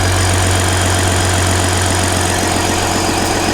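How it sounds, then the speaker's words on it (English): A Ram 1500 EcoDiesel with a blown engine idles steadily up close, a loud, even low diesel rumble with constant vibration and no talk over it. "So that's what she sounds like, you guys. It's a pretty quiet diesel engine."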